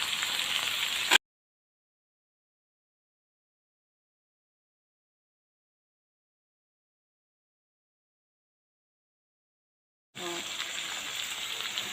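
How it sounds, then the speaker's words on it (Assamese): Onions and tomatoes fry in a pan for chicken curry with a steady, hissing sizzle in two short bursts, one at the start and one at the end, separated by a long stretch of silence. "পিঁয়াজখিনি ব্ৰাউন কালাৰটো আহিলত আমি বিলাহীখিনি দি দিছোঁ।"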